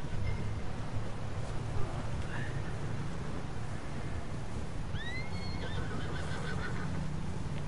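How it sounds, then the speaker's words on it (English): In Red Dead Redemption 2, a horse gives a clear, fairly close neigh rising and falling over about a second, set against a steady wind- or water-like background hiss with faint hoof sounds. "This is Charles's horse."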